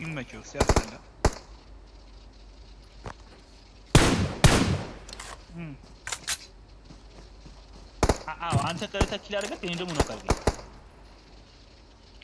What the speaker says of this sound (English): They're shooting at them.